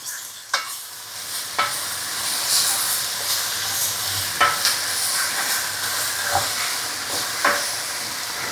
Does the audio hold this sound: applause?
no